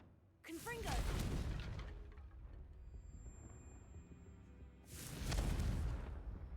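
Two heavy booming fire-spell blasts go off in the Hogwarts Legacy video game, each a loud rumbling burst with a fading tail, separated by a quieter stretch.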